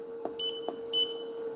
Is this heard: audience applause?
no